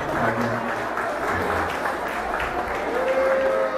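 Applause for a senator visiting the Flaskô factory, a crowd clapping steadily and warmly throughout, with a voice speaking over it at moments.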